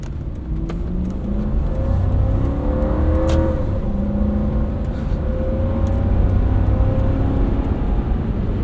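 A 2000 Lexus LX 470's V8 engine, with a 4-speed gearbox and 290,000 miles, accelerates steadily, its tone rising and shifting, with a smooth continuous hum and a couple of faint clicks.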